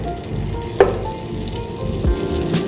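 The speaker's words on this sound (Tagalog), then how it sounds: "Pag natunaw na po yung butter, maglalagay po tayo ng 5 tablespoons of all-purpose flour" All-purpose flour stirred into melted butter in a hot pan, giving a steady close sizzle and frying crackle with a brief clink of a utensil, no voices over it.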